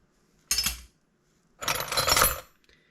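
Vintage metal wrenches, including a Tecton, clink and jangle as they are handled: a brief bright clink, then a longer rattling cluster about a second later, close and crisp against silence.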